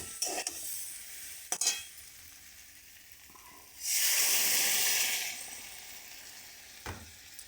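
Water poured into fried spice paste for a fish and taro curry, a few scraping stirs, then a sudden loud hissing sizzle lasting over a second before fading, with another stir near the end.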